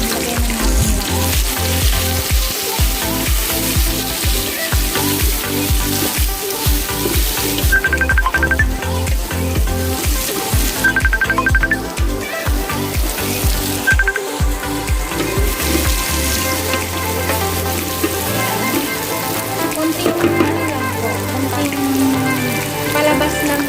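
Ginger and aromatics sizzling in a pan, cooked first for crab in coconut milk, a dense, loud, continuous frying crackle close up that eases slightly toward the end.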